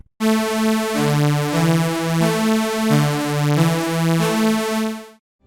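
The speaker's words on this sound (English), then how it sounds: "Notice that it is a saw wave." A bright, buzzy detuned saw-wave synth lead plays a short melodic phrase of sustained notes with smooth attacks and a gentle release, loud and unaccompanied.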